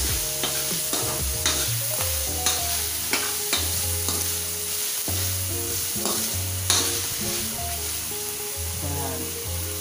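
Black pepper sizzling in a pot as it is stirred for kalabasa squash soup, steady frying hiss with regular spoon clinks against the pot, close and continuous, background music underneath.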